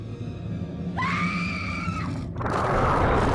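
A woman lets out a single long, loud scream with a wavering pitch at a monster in the 2006 creature film Abominable, then it cuts sharply to a rushing noise burst.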